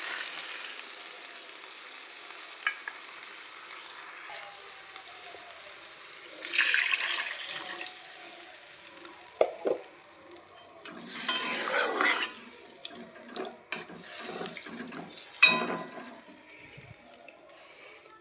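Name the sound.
water poured into pan of fried fish curry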